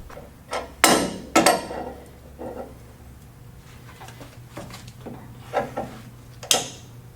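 Wrench work tightening a heim joint bolt on the steering of a third-generation Toyota 4Runner, heard as several sharp metallic knocks and clanks spaced irregularly, close by with no talk.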